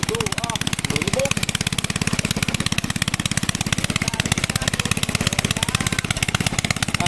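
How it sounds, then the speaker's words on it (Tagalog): Water pump motor chugging beside a flooded rice field, a fast, even engine putter repeating steadily and close throughout, with a voice speaking briefly over it early on. "May motor po ng tubigan"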